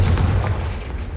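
A Confringo fire spell explosion in Hogwarts Legacy: a short, loud booming blast at the start that decays into a rumbling tail over about a second, with no voices.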